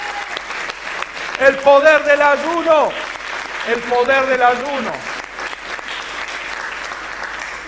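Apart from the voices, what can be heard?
applause in church congregation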